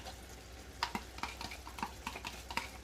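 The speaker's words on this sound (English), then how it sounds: "And give it a stir." Creme fraiche is stirred through a chicken and mushroom spaghetti sauce in a pan, making soft wet scrapes and irregular utensil clicks at close range over a faint steady background hiss.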